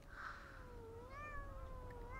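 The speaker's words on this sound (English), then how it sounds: "Start to hear the the cats that are up here." Cats meowing in the video game Thirty Flights of Loving, a couple of drawn-out rising and falling meows over a quiet background hum, moderately near with no talking.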